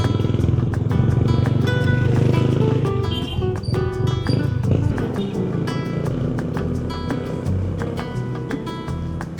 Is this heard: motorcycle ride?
yes